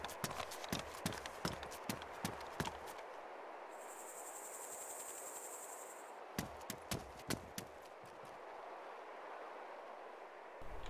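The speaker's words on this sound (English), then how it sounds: "I thought I heard footsteps outside." Footsteps on a hard surface outside in a survival video game, a run of sharp rhythmic steps at the start and again later, with a steady insect-like chirping drone in between and no talk.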